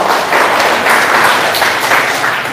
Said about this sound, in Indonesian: Yang setuju beri tepuk tangan dulu untuk Tuhan